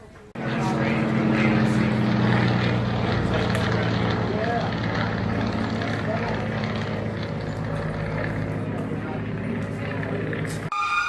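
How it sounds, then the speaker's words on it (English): A loud, sustained engine drone from an aircraft overhead fills the scene at an outdoor pottery gathering, steady and close-sounding throughout, with voices faintly underneath. "We're pretty sure a plane crashed."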